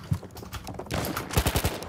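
Horse hooves galloping in a Battlefield battle, a quick run of close, loud thumping beats tangled with gunfire-like cracks over about two seconds.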